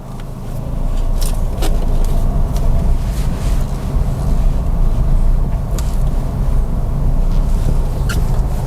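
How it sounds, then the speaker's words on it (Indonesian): A Suzuki Ertiga Hybrid drives along with a steady, loud low rumble of engine and road noise from inside the cabin, with faint ticks and clicks now and then. "Kita jalan saja untuk merasakan seperti apa mobil ini"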